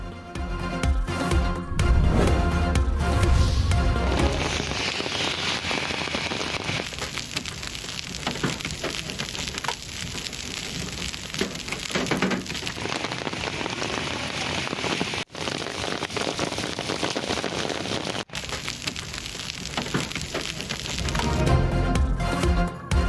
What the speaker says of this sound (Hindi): इस्लामाबाद में एक बार फिर तेज बारिश और यालाबारी।